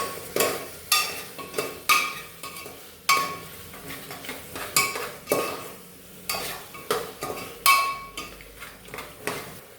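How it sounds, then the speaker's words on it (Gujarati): Spices being sautéed in oil inside a pressure cooker for a Gujarati potato curry, with repeated sharp scraping and stirring strokes against the metal pot over a low sizzle, close and fairly loud, with no talking. "હવે આપણે બધા જ મસાલાને તેલમાં સાંતળીશું।"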